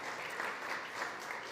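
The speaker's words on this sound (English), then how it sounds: "Round of applause" Sustained applause from a conference audience at a food summit during South by Southwest, a dense even wash of many hands clapping at steady loudness throughout.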